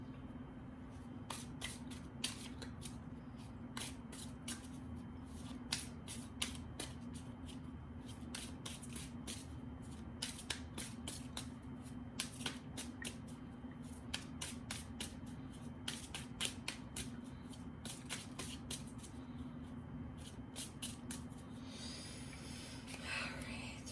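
Tarot cards shuffled repeatedly in quick, irregular bursts of crisp flicks, close by, over a steady low hum, with no voices.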